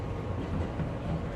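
A New York subway Q train rolls along the line, giving a steady, close rumbling roar of wheels and car body with no breaks or pauses.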